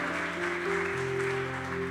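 An Easter Sunday church congregation breaks into brief applause over sustained keyboard or organ chords, the clapping a soft, dense patter blended with the music.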